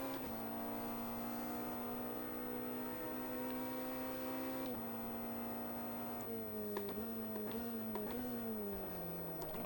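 A race car engine in the Automobilista 2 sim racing game, Le Mans endurance class, holding a steady high drone that dips and climbs through several quick gear shifts and throttle lifts near the end.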